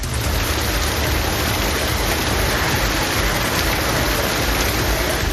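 Heavy summer rain pours over Krishnagiri, Tamil Nadu, a loud, dense and unbroken hiss of water that holds steady throughout, with no voices.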